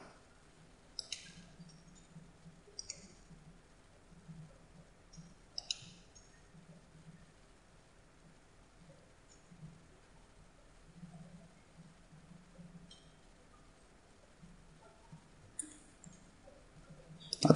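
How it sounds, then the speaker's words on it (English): Computer mouse clicks come in sparse single and double taps, close and fairly soft, over quiet room hiss with no talk. "Now let's click on each of these links in turn"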